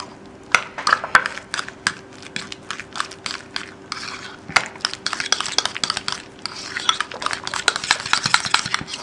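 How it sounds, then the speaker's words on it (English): Deviled egg filling of mashed yolk, mayonnaise and hot sauce stirred briskly in a bowl, giving a steady run of close, quick clicks and soft scrapes of a utensil against the dish, with no talking. "Just give these a good stir."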